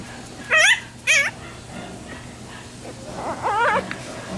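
A newborn puppy gives a few thin, high-pitched whimpers: two short squeaks close together, then a longer wavering cry after a pause.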